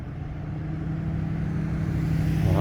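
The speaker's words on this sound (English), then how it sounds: "A hydro truck." A hydro utility truck drives by outdoors, its low engine rumble steady and building slightly louder as it nears.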